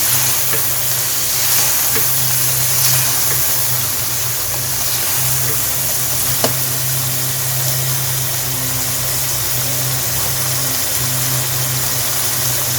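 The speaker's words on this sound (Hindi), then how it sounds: "इसको भी भूनेंगे 2-3 मिनट, लहसुन अदरक के पेस्ट को" Garlic-ginger paste frying in a pan, cooked for kaleji: a steady, close, even sizzle with a low hum underneath and occasional faint clicks, and no talking.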